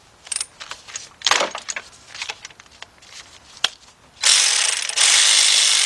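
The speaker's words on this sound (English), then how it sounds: "I'm going to use my cordless ratchet" A cordless ratchet with a 15mm shallow socket works 15mm bolts on a Trailblazer-family valve cover. Scattered close clicks and metallic handling come first, then a loud, steady motorized whir runs for the last couple of seconds.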